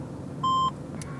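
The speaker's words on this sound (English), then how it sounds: "maybe you can hear some of the beeps from the Kenwood" A single steady electronic APRS radio data beep from a Kenwood radio holds for about a quarter second over a low background hum, followed by a faint short burst.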